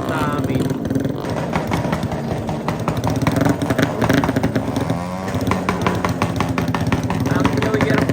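Several motorcycles rev and idle close by at a New Year street celebration in Nakar, loud engine roars rising and falling over crowd noise, with people talking throughout.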